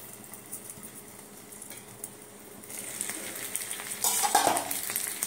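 Hilsa fish wrapped in banana leaf set down on a hot pan, a soft steady sizzle that grows louder and crackles more sharply partway through, with no voices.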